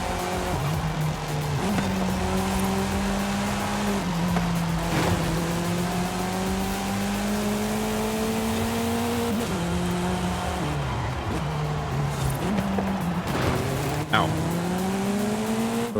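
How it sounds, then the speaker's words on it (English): A Mercedes in Forza Horizon 5 holds a steady engine drone that climbs through gear shifts and drops back, while tyres squeal and skid through corners and a voice talks over it. "Does sound very nice, this car."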